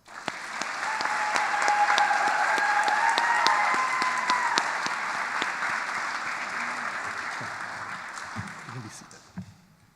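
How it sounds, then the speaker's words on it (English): Audience applause at a Doctor of Physical Therapy white coat ceremony, a sustained round of clapping from a large indoor crowd that swells quickly, holds steady for several seconds and fades out, with a few voices underneath. "Let's give them a round of applause"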